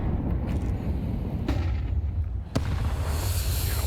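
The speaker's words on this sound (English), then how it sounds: "Big fucking nade." Grenade blasts in a Counter-Strike esports match, booming explosions with a sharp crack near the end over a dense game soundscape.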